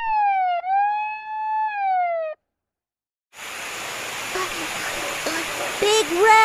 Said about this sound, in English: Lil Red turns on his siren, but it sounds so weak.